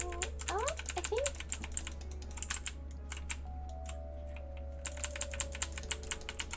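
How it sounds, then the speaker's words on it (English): Clacky computer keyboard keys are typed in quick irregular bursts, close and crisp, with a short pause midway and faint electronic tones and a low steady hum in the background. "Keyboard clacks putting you to sleep."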